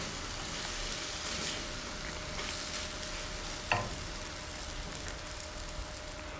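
Honey garlic prawns with spring onions sizzle in a pan on a gas stove while being stirred, a steady close frying crackle with one sharp clink of a utensil partway through.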